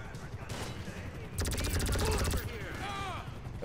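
Rapid automatic gunfire from a GTA V Online shootout bursts out in a dense, continuous volley lasting about a second, followed by scattered shots and clatter, fairly faint and up close.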